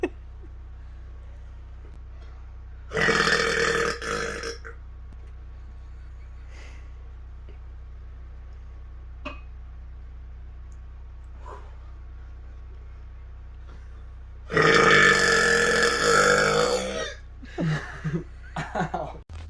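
A man lets out two loud, drawn-out burps, one short and one longer, separated by a long stretch of near-quiet with faint small noises in between.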